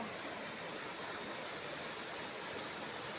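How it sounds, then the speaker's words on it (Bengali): Rushing, foaming water pours steadily near Alipurduar Junction, a dense broadband roar like a small waterfall or fast stream that stays constant and fairly loud with no voices. "সেই কোথা থেকে জল আসতেছে, ফেনা ফেনা হয়ে যাচ্ছে জলগুলো"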